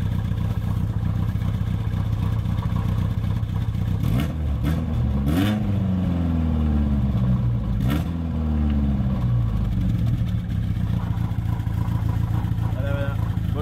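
A Peugeot 205 engine idles, then revs up sharply several times with rising and falling pitch sweeps before settling back, close and loud, with voices talking around it.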